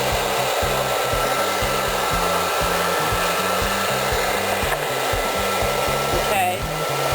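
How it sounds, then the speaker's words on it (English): A soft hood hair dryer held in the lap runs with a loud, steady broadband whoosh throughout, with a low pulsing hum and a brief change near the end. "let me show you how I have the dryer in my lap."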